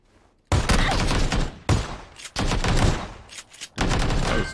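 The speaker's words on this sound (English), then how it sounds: "That was two really clean shots" Gunfire in the battle royale game PUBG: three loud bursts of rapid, close shots separated by short silences, with no talking.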